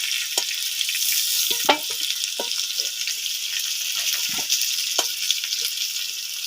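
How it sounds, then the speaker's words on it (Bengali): Boiled eggs fry in oil with turmeric and salt, a steady hiss of sizzling broken by scattered spatters and utensil knocks, near and moderately loud, with no voices. "এই তেলের মধ্যে সামান্য পরিমাণে হলুদ, সামান্য পরিমাণে নুন দিয়ে ডিমগুলো আমি ভেজে নেবো"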